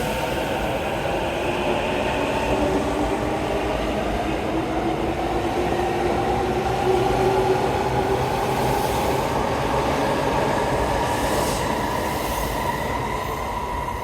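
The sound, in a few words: commuter train bound for Minami-Urawa leaving Tokyo Station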